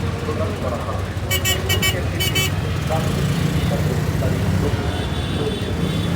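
Heavy traffic jam at Digha with a steady roadway rumble and a burst of repeated car horn toots early on, while people talk nearby over the noise.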